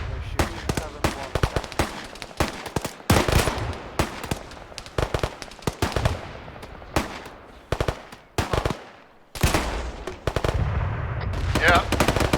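Rapid bursts of gunfire aimed at a helicopter in a military simulation exercise, with dense automatic volleys and single sharp shots repeating throughout, loud and close, with brief pauses and faint voices mixed in.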